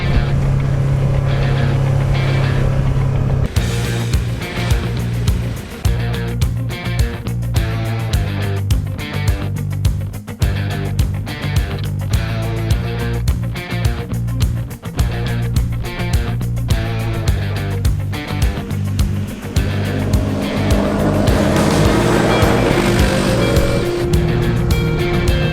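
Polaris 1000 UTV engine pulling a trailer loaded with a few hundred pounds of firewood, a steady close engine drone with a rhythmic ticking pulse throughout, rising slightly near the end.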